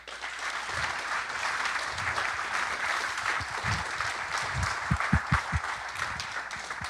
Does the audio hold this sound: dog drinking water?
no